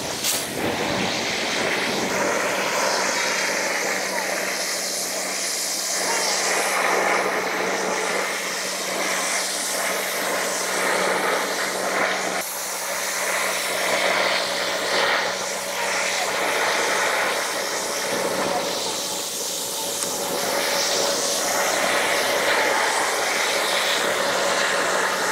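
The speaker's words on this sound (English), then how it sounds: "if you have a pressure washer, let's go do that" A pressure washer sprays weeds out of sidewalk crevices with a loud, continuous hissing drone that holds steady for the whole stretch, with slight surges as the spray moves.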